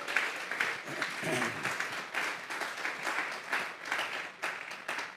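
A church congregation claps in applause as an offering of praise. The dense, rolling clapping rises and falls in waves for several seconds at a moderate distance.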